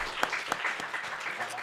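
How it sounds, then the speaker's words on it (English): A short burst of audience applause at an evening candidate forum, steady crowd clapping with a few sharper individual claps standing out. "And I think you should give yourselves a round of applause for being here this evening."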